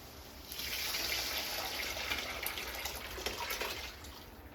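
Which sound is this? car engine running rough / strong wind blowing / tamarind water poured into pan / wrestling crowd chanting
tamarind water poured into pan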